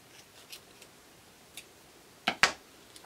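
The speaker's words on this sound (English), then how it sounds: "you can cut off any excess with scissors from the back" Scissors snip off excess pipe cleaner for an embroidery hoop wreath: a few faint soft ticks early on, then two sharp, close cutting snips near the end, otherwise quiet.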